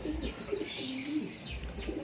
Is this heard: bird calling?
yes